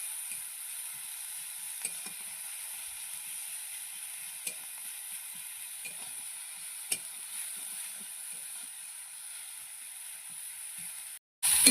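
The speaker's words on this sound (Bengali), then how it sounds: "প্রথমে তেলের মধ্যে পেঁয়াজ, লঙ্কা, টমেটো দিয়ে ভালো করে ভাজা ভাজা করে নেব।" Onion, chili and tomato frying in hot oil, a steady even sizzle with occasional sharp ticks of stirring, close and continuous for several seconds, ending in a brief pause and a louder burst.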